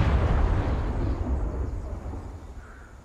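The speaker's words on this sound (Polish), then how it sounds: "Tu jest grzmot piorun, czy co to jest? Czy coś eksplodowało na moich uszach?" Thunder or an explosion in Far Cry 5, a single deep rumbling boom that rolls and slowly fades over a few seconds, loud and close, with no talk.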